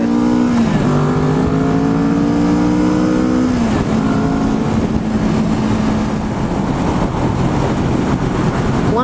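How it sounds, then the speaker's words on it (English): A 2015 Kawasaki Vulcan S motorcycle cruises on the highway with a loud, steady engine drone whose pitch dips and climbs through gear changes, mixed with constant wind rush. "You'll have no problems running this bike on the highway."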